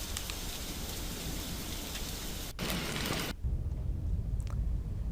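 Heavy rain pouring down during flooding in Thailand, a dense, steady roar of drops on surfaces that runs the whole time and shifts to a deeper, boomier wash near the end, with no voices.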